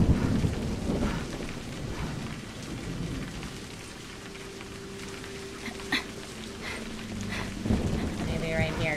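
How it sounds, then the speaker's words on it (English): A video game thunderstorm fills the space with steady heavy rain and low rumbling thunder, and a few sharp cracks stand out near the end, constant and enveloping throughout. "I need to get out of this storm."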